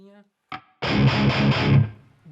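An electric guitar played through the reverb of a Flamma FX150b multi-effects unit: a brief plucked note, a pause, then a loud strummed chord pulsing a few times before its reverb tail fades out.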